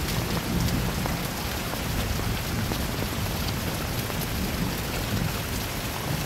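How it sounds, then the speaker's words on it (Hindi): Steady heavy rain pours down with a deep, rumbling thunder-like undertone, a dense continuous wash that holds at the same loudness throughout, with no voices. "बारिश हो रही है"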